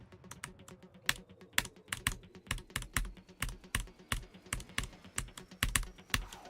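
Rapid, uneven clacking of keys on a computer keyboard being tested for playing Geometry Dash, with sharp close keystrokes landing in quick bursts and steady runs, with no voices.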